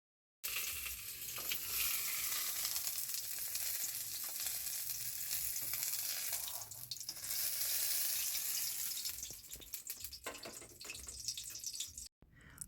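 Pointed gourd frying in a pan of oil gives a steady, close sizzle with faint stirring scrapes, holding loud and even through the clip before cutting off briefly near the end.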